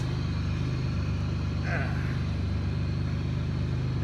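A 2002 Pontiac Grand Prix idles after sitting unused for five years, its engine a steady, close low rumble running evenly throughout, with a brief voice passing over it.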